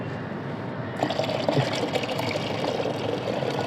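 A fermented onion peel mixture is poured into a container as a homemade fertilizer, making a continuous watery splashing and gurgling that starts abruptly and runs steadily, close and moderately loud.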